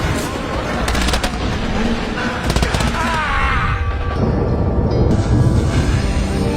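A war flashback in a film, where a unit is shot down by enemy fire: dense bursts of machine-gun fire crackle in rapid rattling volleys over a loud, continuous battle din, with a voice talking over it.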